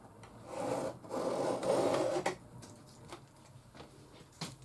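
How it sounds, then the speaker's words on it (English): A paper trimmer slices through a piece of scrap gold card, giving a soft scraping rasp for about two seconds, followed by quieter faint rustles and taps. "Just going to put it through my trimmer."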